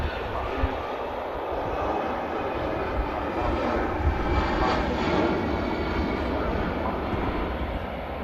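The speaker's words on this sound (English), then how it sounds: "And there's the EasyJet. Lifts up the wheels on departure." An EasyJet airliner departs Manchester Airport, its jet engines a steady broad roar that swells slightly mid-clip as it climbs away, loud and continuous throughout.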